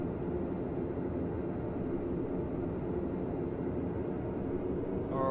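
A steady, loud engine roar from an aircraft on its takeoff run in Stormworks, holding even and unbroken throughout, with a brief extra rise near the end.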